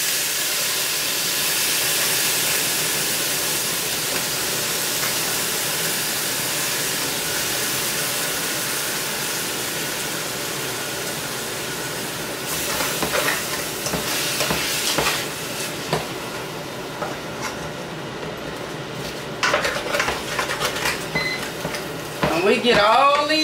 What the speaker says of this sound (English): along with the onions, I'm gonna add in my apples.